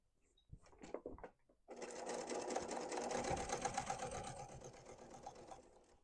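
A sewing machine stitches a quilted tote after a few soft handling clicks and knocks, then runs in a steady, close, fast whir for several seconds before slowing slightly.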